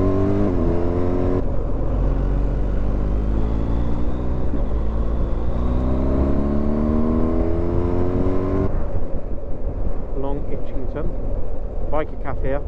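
A BMW R1250 GS Adventure motorbike riding along a bypass, its engine droning steadily with rising and falling pitch as it accelerates, close and continuous, with wind noise over it.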